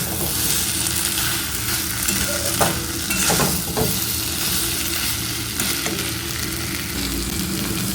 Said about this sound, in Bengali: এবারে দিয়ে দিচ্ছি সেই ভেজে রাখা মশলাটা। ভালো করে মিশিয়ে নিচ্ছি।